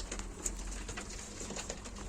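Pigeons coo softly at a live Turkish auction of performing pigeons, low throaty calls that are faint against a steady room hum with a couple of brief brighter chirps.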